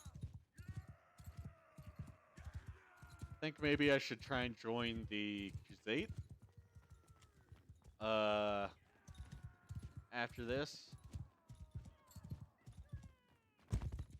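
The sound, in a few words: horse hooves clip-clopping in video game Bannerlord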